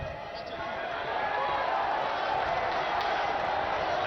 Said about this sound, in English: a loud groan from this crowd